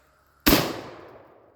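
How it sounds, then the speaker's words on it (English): A shotgun firing a homemade shell loaded with loose screwdriver bits: a single loud, sharp blast that rings out and decays over about a second, with no voices. "we're gonna try the loose 3 screwdriver bits. I almost don't want to shoot this one."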